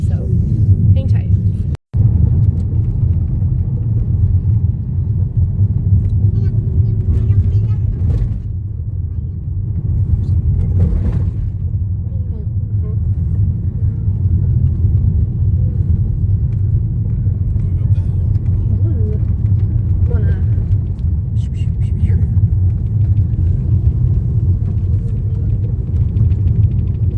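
A car rolling along a bumpy park road, a continuous low rumble from the cabin with occasional thumps and jolts, while people talk over it the whole time.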